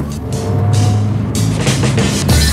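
Truck on the road, a loud rumbling engine with rushing noise that swells and fades as it passes close by while a car waits at the roadside.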